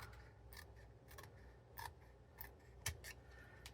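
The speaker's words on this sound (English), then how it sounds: "I'm just going to take my scissors and gently trim that off" Scissors gently trim a small paper lip on a handmade stamped card box, making faint, close, isolated snips and light clicks spaced irregularly in a quiet room.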